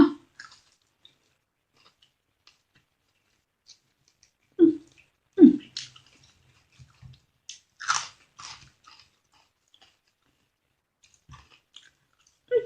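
Yardlong beans are chewed during a home meal of rice with jaew bong chili paste, with close crunchy bites coming in scattered bursts between quiet pauses.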